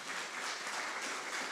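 A school audience at a national tourism public speaking competition claps steadily, a dense, even wash of applause holding at the same level throughout with no voices rising above it.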